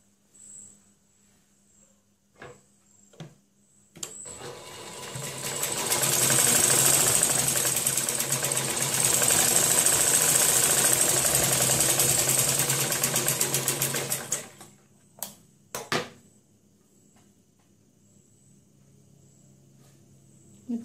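A sewing machine stitches the lining of a saree blouse in one long, loud, steady burst of fast whirring and needle chatter lasting about ten seconds, with short stop-start bursts and small handling clicks before and after.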